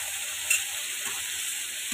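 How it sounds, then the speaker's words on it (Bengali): Spice paste for hilsa bhuna fries in oil with a soft, continuous sizzle, plus a light scrape or stir now and then. "মশলাটা আমার খুবই ভালো করে ভাজা হয়ে যাচ্ছে"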